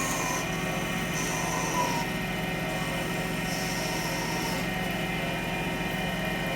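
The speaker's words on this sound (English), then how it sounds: "So now I'm going to use the parting tool a little bit further." Parting tool cutting into a spinning wooden egg on a lathe, a steady close scraping whir with a constant motor hum underneath and brief higher squeals as the edge bites, continuous throughout without talk.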